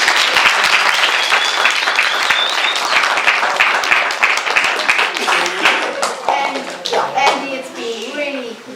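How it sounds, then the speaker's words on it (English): Audience applause for the auditors at an eco presentation, loud dense clapping close by that gradually thins out, with voices and children's chatter rising underneath as it fades. "let's give them a huge round of applause"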